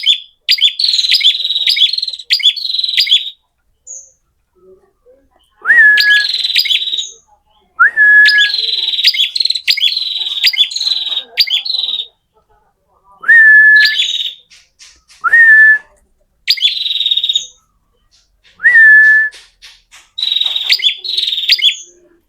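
A bird sings loud, close bursts of sharp chirps and whistled notes, repeated in phrases with short silent gaps between them.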